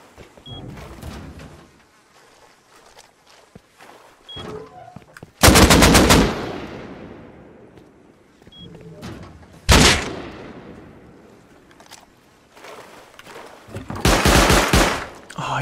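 An automatic turret in Rust Console Edition fires several loud, rapid bursts of gunfire between quieter stretches, with faint scattered game sounds in the gaps.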